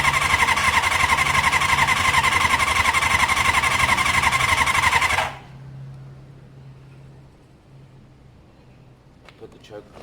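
A Kawasaki ZL600 motorcycle engine runs on choke with a loud, steady, rough rattle for about five seconds, then shuts off abruptly, leaving a low hum and faint clicks.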